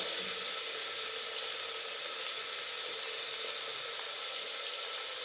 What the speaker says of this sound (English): Now for the sambar, I'm just adding the onion and